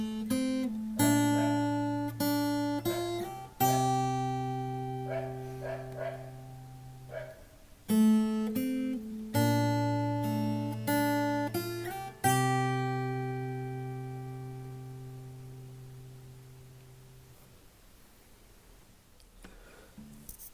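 Guitar picks out a tune, plucking the first and fifth strings in gentle arpeggiated phrases with ringing sustained notes, close and soft, pausing briefly midway and ending on a long fading chord.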